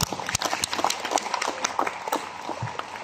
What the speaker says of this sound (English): I feel you should give yourself a round of applause as well.